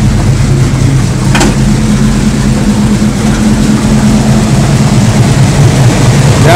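A Pontiac Trans Am drifting sideways on the street gives a loud, close, steady low engine drone with a deep rumbling tone throughout, no voices.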